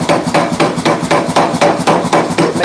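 Power hammer forging hot metal in a shop, loud rapid evenly spaced blows, about six strikes per second, repeating steadily and close up.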